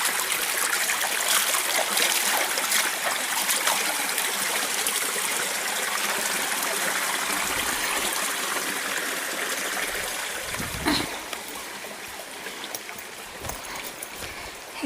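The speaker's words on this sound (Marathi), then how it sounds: "ह्या छोट्या शिड्यामधून पाण्यातून चाललंय मी." Water flowing and trickling over small stone steps, a steady close babble of a shallow stream with a few louder splashes and sloshing footfalls through the water, no voices.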